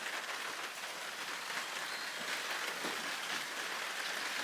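Steady rain falls outside a garden greenhouse, a soft, even hiss of drops pattering on surfaces that continues without pause at low volume, with no voices.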